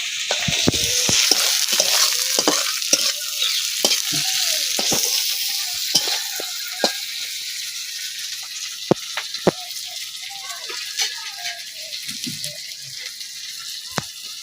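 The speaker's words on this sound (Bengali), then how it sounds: "পেঁয়াজ আর টমেটো পুরোপুরি ভাজা হয়ে গেছে লালও হয়ে গেছে" Onion and tomato sizzle in a pan as a spatula stirs and scrapes, the frying steady and close with sharp clicks of utensil on metal and a little water added, no voices.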